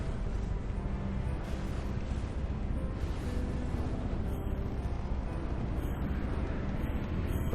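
Continuous heavy rumbling blasts roll together with crackling debris, a dense, muffled wall of torpedo explosions in the game From the Depths at moderate volume.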